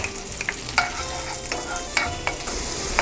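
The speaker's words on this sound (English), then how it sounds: "Make sure you're stirring the garlic continuously, otherwise it can burn because we are cooking it in butter." Garlic sizzles in hot butter in a pan as it is stirred without pause, a constant close frying hiss marked by a few sharp utensil scrapes, with no voices.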